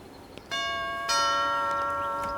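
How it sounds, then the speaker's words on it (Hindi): A two-tone electronic doorbell chimes close by, the second note ringing out and lingering over a quiet room. "चल घंटी बजाते हैं"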